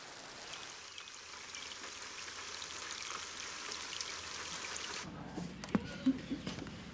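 Steady hiss of rain falling in the Amazonian marshes, soft and continuous, then a sudden cut to a quieter scene with a few faint knocks.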